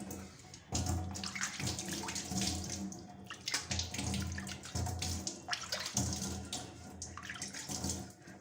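Water runs steadily from a tap over a scrubbed brass utensil, splashing and gurgling with uneven bursts as it is rinsed beneath it.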